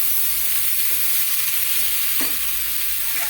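Washed drumstick flowers tossed into hot oil in a frying pan, giving a loud, continuous hissing sizzle up close with a few faint scraping stirs underneath, no voices.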